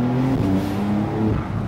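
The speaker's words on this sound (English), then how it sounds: "So you can probably hear the difference that the engine and the exhaust makes." A 480 ps Porsche 911 Carrera GTS of the 992 generation drones loudly from engine and exhaust, its tone shifting up and down through gear changes as the car drives, heard alone without talk.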